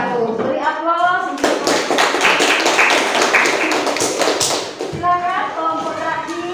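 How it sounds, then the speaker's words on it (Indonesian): Applause from a classroom of students, a dense burst of clapping hands lasting several seconds, with speech heard briefly before and after. "Beri aplaus."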